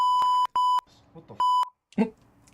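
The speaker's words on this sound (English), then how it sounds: "That beep was way loud." Three loud, sharp electronic beeps, two close together and then one more after a brief pause, followed by a short vocal sound.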